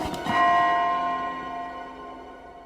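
A single church bell in a video game strikes once, loud and resonant, its metallic tone ringing out and slowly fading over a couple of seconds.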